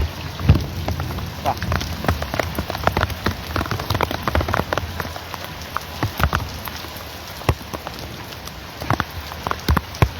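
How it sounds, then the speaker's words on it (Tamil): Rain pours steadily onto surfaces outdoors, a dense continuous patter with sharper close drops and splats striking throughout, loud and near, with no one speaking. "மழை பெய்யுது."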